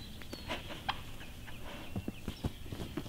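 A wild turkey, a young gobbler, gobbles in rapid, rattling bursts somewhere outdoors, with scattered clucking notes mixed in.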